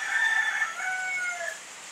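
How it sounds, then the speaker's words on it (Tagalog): A rooster crows once, a drawn-out strained call that trails off, heard from a short distance against a quiet background. "Pagpasensyahan nyo na yung manok. Tanghali na siyang nagising."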